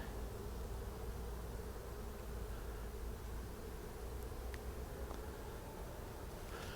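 Honeybees ventilate at a hive entrance, a steady dense buzzing hum that stays constant and fairly faint with no voices.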